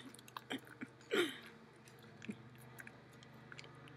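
Someone chews a piece of paper close up, with wet, squishy bites and soft smacks coming in irregular bursts.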